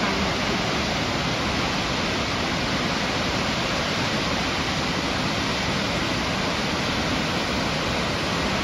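Steady, dense roar of falling water from a waterfall in New Zealand, heard close and continuous with no pauses or voices.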